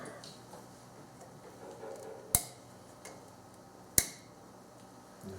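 A retaining clip snaps into place on a Subaru power steering pump, pushed home with pliers: two sharp, close clicks about a second and a half apart over a quiet workshop background.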